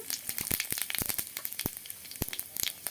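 Cumin and radhuni seeds frying in hot oil in a kadai give off quick, scattered crackles and pops, fairly faint and close.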